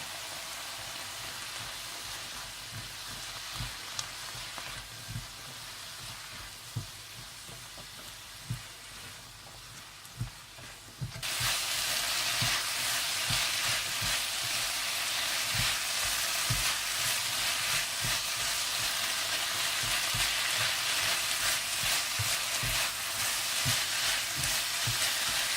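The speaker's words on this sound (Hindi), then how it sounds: "चिली सॉस और चिली गार्लिक सॉस भी डाल दें और अच्छी तरह से मिला लें और थोड़ा सा और भून लें।" Chili sauce and chili garlic sauce stir-fried in a hot pan for Schezwan rice, a steady sizzle with scraping stir strokes that swells louder partway through and holds.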